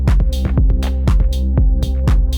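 Electronic drum pattern built in a beat-making app, with punchy claps, ticking hi-hats and a constant deep sub bass underneath, looping at a steady, loud, close tempo.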